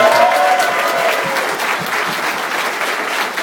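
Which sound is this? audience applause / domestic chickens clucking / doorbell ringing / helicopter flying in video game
audience applause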